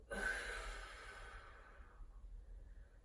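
During a Sunday workout, one long audible breath sighs out close to the mic and then fades into quiet.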